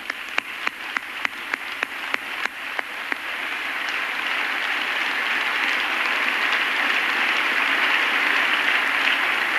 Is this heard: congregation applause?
yes